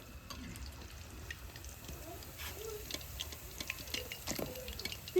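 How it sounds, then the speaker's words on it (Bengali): Fried chicken pakoras are lifted from hot oil, with a steady crackling sizzle underneath and scattered light clinks and drips of a utensil against the pan. "পকোড়া ভাজা হয়ে গেছে এবার পকোড়া তুলে নেবো"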